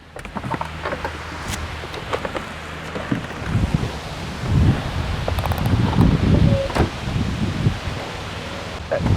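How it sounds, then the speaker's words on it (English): Gusty outdoor wind buffets the microphone in loud, rumbling waves beside a Renault Megane I during air filter work, with rustling bursts swelling and easing over about nine seconds. "It's pretty windy there, so probably be some noise"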